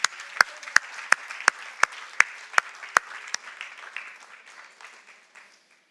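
A church congregation claps during an Easter Resurrection Sunday service, starting with sharp, evenly spaced loud claps in a steady beat that loosen into scattered clapping and fade out by the end.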